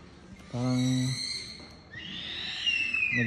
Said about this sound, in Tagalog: Naglalaro yung ibon, naglalaro siya.